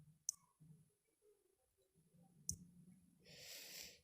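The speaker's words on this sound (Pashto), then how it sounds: "دلته به په دې ځای باندې کلیک وکړئ" Two sharp, isolated clicks from a computer mouse, about two seconds apart, in a quiet room with faint breathing and a short burst of rustling noise near the end.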